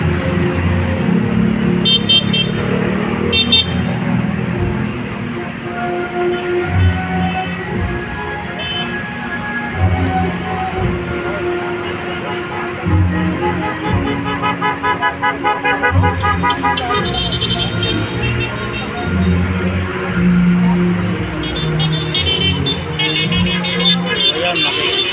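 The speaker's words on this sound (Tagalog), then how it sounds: "nakikisimpatiya yung busina yung ating mga kababayan na napadaan dito" Car horns toot repeatedly amid steady traffic noise passing a prayer rally at the EDSA monument, with a crowd murmuring and voices talking throughout.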